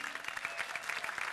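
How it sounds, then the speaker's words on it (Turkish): Applause from a studio audience on a Turkish talk show, faint and somewhat distant, with a fairly even patter of many hands over a little more than a second. "Kocaman alkış."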